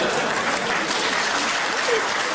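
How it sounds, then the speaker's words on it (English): An audience at a Jimmy Carr comedy show gives dense, sustained applause that fills the space evenly from start to finish. "A round of clapping."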